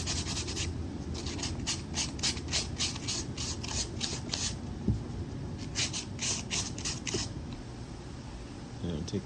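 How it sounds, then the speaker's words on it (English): Sandpaper of 240 grit rubs over a drysuit wrist seal in a steady run of close, rasping back-and-forth strokes that pause briefly partway through. "I'm going to sand it with some 240 grit sandpaper."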